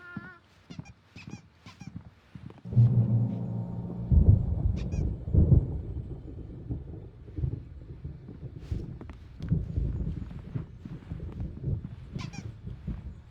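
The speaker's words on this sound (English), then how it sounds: "There's a storm coming. Oh, what a storm." Thunder rolls through a storm in the game Alan Wake Remastered: a deep, loud rumble begins after a few seconds and swells and fades unevenly over low booming, with a few faint higher noises at the start.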